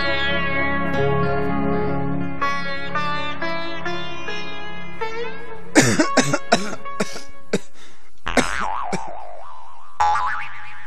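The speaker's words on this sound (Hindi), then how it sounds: "सरदार, एक तो यू खांस रहा" A man coughs in a Hindi rural comedy film scene, several sharp, echoing coughs in a quick irregular burst following a stretch of exaggerated boing-like sound effects and music.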